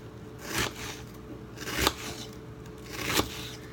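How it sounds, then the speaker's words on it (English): A knife chops through an onion on a cutting board, giving three distinct, fairly loud strikes spaced about a second apart against a quiet kitchen background. "you can turn the cutting board so it's the opposite, and then you just cut again"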